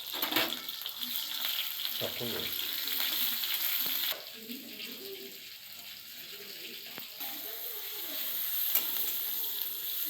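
Steady frying sizzle of chopped onion with cumin, bay leaf and dried red chilli, with occasional stirring clatter, close and continuous throughout, with a brief quieter stretch in the middle.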